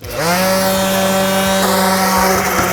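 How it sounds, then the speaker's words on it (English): A cordless DeWalt random orbit sander spins up and runs at a steady, loud, close whine with a strong tonal hum, briefly wavering near the end, with no talk. "We've got a cordless DeWalt here. Let's see if it runs."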